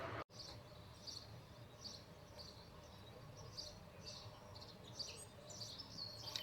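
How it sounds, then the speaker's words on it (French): Morning birdsong fills the air, with several light chirps and short trills repeating at a moderate distance over a steady outdoor hum and faint insect buzz. "Est-ce que vous entendez le bruit des oiseaux?"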